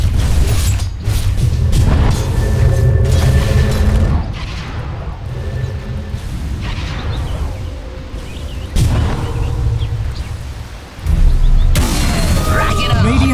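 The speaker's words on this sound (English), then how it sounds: "Dire's middle tower is under attack." Dota 2 tower under attack, a dense stretch of booming impacts, mechanical clanks and creaks with sharp hits, loud and busy throughout, with a voice speaking over it.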